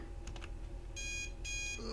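Alarm clock ringing in the Snoot Game mod, a video game: two bursts of rapid electronic beeping, each about half a second long, after a few soft clicks, over a constant background hum.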